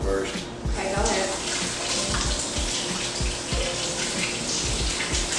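Tap water runs steadily into a kitchen sink while mushrooms are washed, a continuous close splashing stream with some clatter mixed in.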